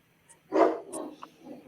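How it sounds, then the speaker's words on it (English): A Neapolitan Mastiff barks from another room, one deep muffled bark followed by a softer, lower sound, distant and faint in an otherwise quiet space. "so she's barking to let us know that she wants."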